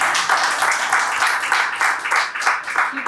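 An audience at a motivational talk claps for about three seconds, a dense spread of hands at moderate loudness with no voices over it.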